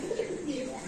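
A fantail pigeon gives a soft, low, close coo that lasts about a second against faint background noise.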